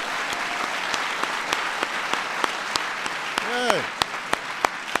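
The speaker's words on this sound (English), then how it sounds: "Let's give a big round of applause to all our" Audience applause for National Medals of Science and Technology awardees at a White House award ceremony, a steady, fairly even clapping that runs the whole time with sharper individual claps and a brief voice rising from the crowd.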